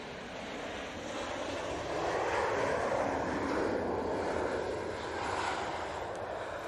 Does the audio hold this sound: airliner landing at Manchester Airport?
yes